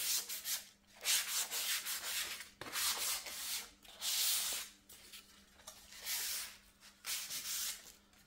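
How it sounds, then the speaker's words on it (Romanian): A 240-grit sanding sponge lightly scuffs primer on solid wood door moulding, a series of close rhythmic rasping strokes with short pauses between passes. "Se șlefuiește cu șmilgher pe burete de 240 granulație."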